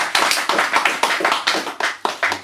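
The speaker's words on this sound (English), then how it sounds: "So, more applause, please, for Frances." A small audience at a poetry cafe in London claps for a poet. The clapping is close and fairly sparse, with individual hand claps clearly audible in an uneven rhythm.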